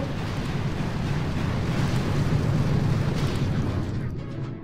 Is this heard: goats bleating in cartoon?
no